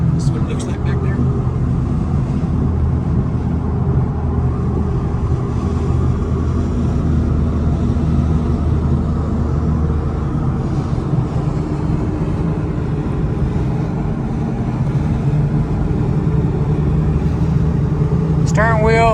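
An old Ford Mustang cruising down the road, its engine and road rumble a loud, steady drone throughout from inside the car, with someone talking over it.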